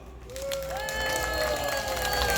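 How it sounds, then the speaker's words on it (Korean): An audience at a Korean lecture event breaks into applause, a sustained mass of clapping with some voices and cheering underneath, steady and fairly loud throughout. "우리 모두를 위해서 큰 박수!"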